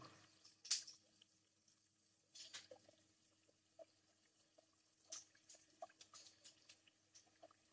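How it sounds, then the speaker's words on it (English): Soft running water for a meditation session trickles faintly in a quiet room, with scattered drips and light splashes and a few sharper taps. "Hopefully you can hear both my voice and the water."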